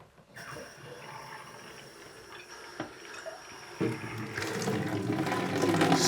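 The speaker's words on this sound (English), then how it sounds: "we're going to run the water and flush the system." Water runs from a newly installed Delta shower head to flush sediment from the plumbing, a steady hiss that grows fuller and louder as the flow opens up, heard nearby with no voices.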